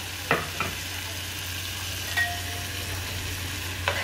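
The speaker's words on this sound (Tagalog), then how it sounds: "Haluin po natin. Ayan, hanggang mag-mix po yung toyo sa kamatis po natin." Soy sauce and tomatoes are stirred together in a sizzling pan, with a low continuous fry and a few sharp utensil scrapes and taps against the pan, close by and with nobody talking.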